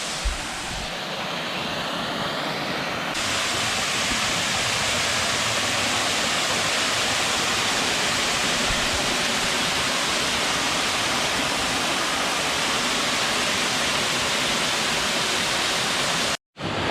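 A small creek flows in the outdoors, a steady, dense rushing of water that stays loud and close throughout with no voices, cutting off briefly near the end.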